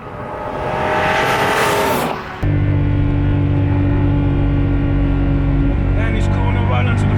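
A modified BMW E46 M3 engine revs hard and climbs in pitch toward the red line, drops briefly during a gear change, then surges again with a loud, sustained drone up close.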